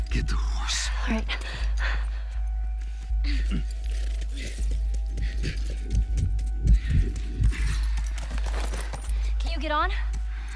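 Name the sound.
horse hooves, from a video game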